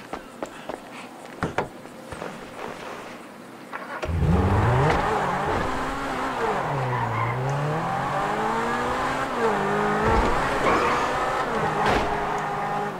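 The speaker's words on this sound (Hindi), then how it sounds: "नहीं नहीं ये गाड़ी कितना चिल्लाती है।" A car engine revs loudly in the video game GTA 5, a sustained roaring whine that rises and falls in pitch across several seconds after a quieter start.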